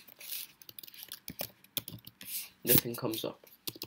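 Quick, irregular clicks of fingers typing on a computer keyboard, close and fairly quiet, in short bursts mixed with a person talking.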